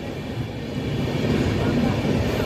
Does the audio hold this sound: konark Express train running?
yes